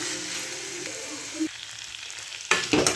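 Ivy gourd coconut curry sizzles and is stirred in a pan, a steady close frying hiss with a short scrape near the middle and a burst of louder stirring clatter toward the end, with no talking.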